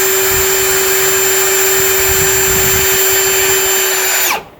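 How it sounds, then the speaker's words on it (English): A loud, steady power drill whines continuously at close range boring through plastic, then spins down and stops abruptly at the end. "when you're drilling in this plastic, go slowly"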